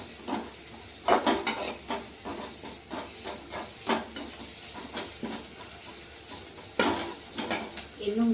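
Onions, fennel seeds, curry leaves and potato fry in hot oil in a home kitchen, a steady close sizzle broken by repeated sharp stirring scrapes and bursts of crackle throughout.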